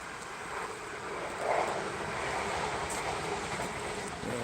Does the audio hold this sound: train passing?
yes